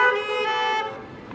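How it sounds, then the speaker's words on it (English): Car horns honk in a burst at a church blessing of the animals, a near, bright blaring tone held for under a second before trailing into faint outdoor background. "And all God's children honk twice."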